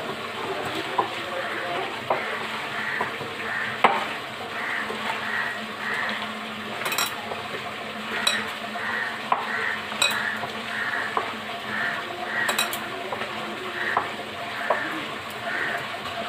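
Potato parota dough with two eggs is mixed by hand in a bowl, giving a steady soft squelching and stirring texture with a few sharp clinks against the bowl, close and alone.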